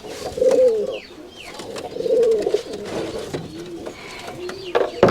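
Rajshahi high flying pigeons (giribaz breed) cooing up close: several throaty, wavering coos in short bursts with brief pauses between, fairly loud against a quiet background, no talk.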